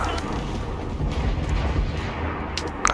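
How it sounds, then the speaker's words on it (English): Heavy booming mortar fire from the Assassin's Creed Black Flag game, deep rumbling blasts rolling over one another nearby with loud low thuds, no speech over them. "Mortar."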